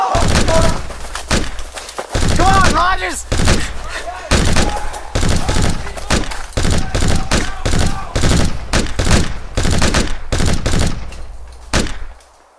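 Heavy gunfire rattles through a firefight, rapid bursts and single loud cracks densely packed and very close, with shouting voices mixed in.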